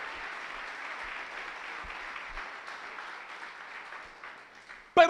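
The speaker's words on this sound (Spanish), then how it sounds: "Dale un aplauso al Rey si tú lo crees." Church congregation applauding during a Sunday service, a steady dense wash of clapping from many hands that holds for about five seconds and ends with a brief louder knock.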